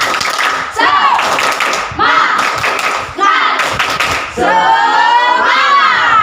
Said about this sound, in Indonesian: Saya ingin mendengar tepuk semangatnya dulu.